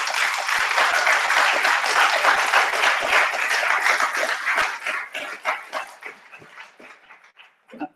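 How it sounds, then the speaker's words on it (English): Audience applause at a township committee meeting, a dense sustained wash of clapping that stays loud for several seconds and then thins into scattered individual claps before dying out. "Let's all give T.J. Whitaker a round of applause."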